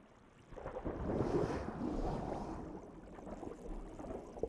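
Huge waves crash on the Antarctic coast, a rushing surge that swells after a quiet start and then slowly fades under roaring wind.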